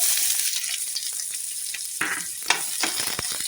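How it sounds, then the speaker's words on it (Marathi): Chopped onion sizzles steadily in a hot pan for potato tacos, a continuous close frying hiss broken by a few sharper crackles and stirring scrapes near the middle and end. "पाहू शकता तुम्ही छान असा आपला कांदा परतला जात आहे"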